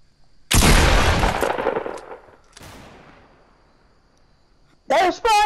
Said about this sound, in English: Shoot so they come to you.